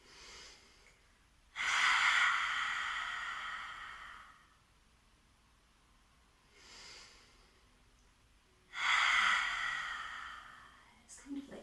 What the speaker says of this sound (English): Maybe just even doing a few ha breaths